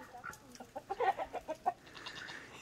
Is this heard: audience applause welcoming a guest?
no